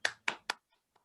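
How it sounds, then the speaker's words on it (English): Three quick, crisp hand claps in a row, close and bright, followed by faint tapping, as a brief round of applause for a student in an online class. "Please, guys, give a big round of applause for Sparsh also."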